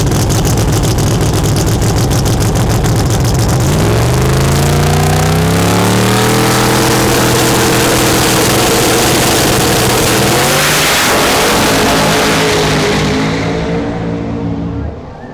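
A drag racing car launches from the line at an NPK event, its engine roaring loud and close, then climbing steeply in pitch through the gears before fading away at the end.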